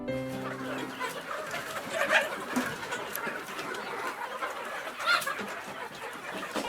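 Village poultry, chickens kept by subsistence farm families, cluck and call in short bursts against an outdoor rural background, with a couple of louder squawks standing out.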